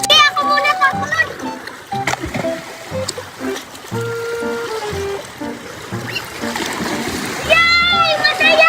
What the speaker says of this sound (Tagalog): Tara, Nicole, talon na tayo